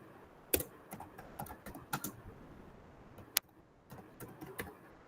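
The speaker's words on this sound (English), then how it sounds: "I'm just typing all the three options." Someone types on a computer keyboard during an online training session, giving irregular bursts of quiet, close key clicks with a few sharper, louder strokes and short pauses between them, with no talking.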